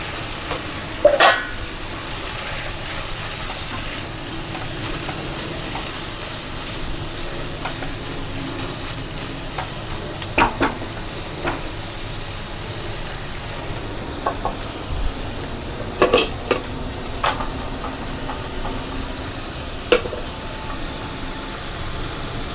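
Tomato and capsicum frying in a pan, giving a steady low sizzle broken by scattered spoon taps and scrapes as they are stirred, close and fairly even with no voices.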